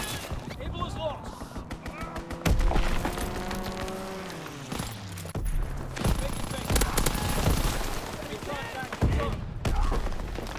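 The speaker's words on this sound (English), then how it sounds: "Strafing run inbound!" Aircraft strafing run in a WW2 video game: bursts of machine-gun fire and cracking impacts over a descending engine whine, loud and dense, with voices under the din.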